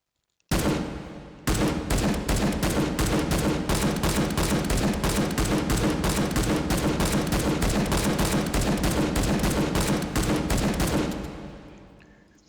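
Semi-automatic AKM rifle shots in the VR shooter H3VR, a long, evenly paced string of loud single reports after an opening shot and short pause, ending with a fading tail.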